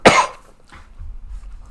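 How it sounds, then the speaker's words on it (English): A single sharp, loud cough from a lecturer, followed by a quieter trailing breath and low room rumble. "This coughing is not getting better"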